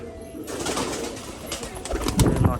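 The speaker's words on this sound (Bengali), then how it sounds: "আর এই হচ্ছে মাদি পায়রাটা।" A female Rajshahi pigeon coos inside a cage, a soft low murmuring that carries on steadily and gets louder near the end, with wing or cage rustling mixed in.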